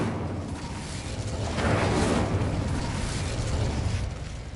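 Incendio fire spell cast in Hogwarts Legacy; a roaring burst of flame swells up and whooshes for a few seconds before fading, loud and close, with no talk.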